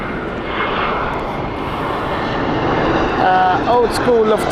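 Lufthansa airliner arriving at Heathrow Airport, heard as a steady broad jet roar throughout, loud and fairly close, with people talking over the engine noise near the end.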